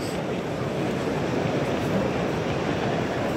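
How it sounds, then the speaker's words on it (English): Live steam model locomotive running on an exhibition model railway layout, giving a steady, dense, continuous chuffing rush and hiss throughout, close and fairly loud with no gaps. "Some actual steam engines, not powered by electrics, powered by actual steam."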